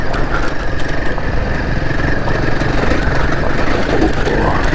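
A Royal Enfield Himalayan 450 motorcycle rides a rough, choppy trail of sand and rock in fourth gear, its engine a steady close chugging drone with constant buffeting rumble.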